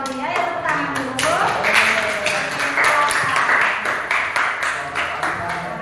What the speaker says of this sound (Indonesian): kita beri tepuk tangan untuk kelompok auditori ya, tepuk tangan dulu